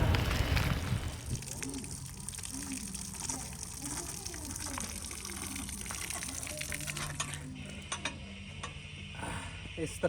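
Cold drinking water gushes from a tap into a vessel in a Siberian town near Lake Baikal, a steady near rushing and splashing stream with some clatter and faint background sound throughout.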